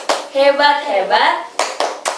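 A group of women at a P2K2 family-support session chants in rhythm, then claps three times in sharp, close bursts to finish the clap chant.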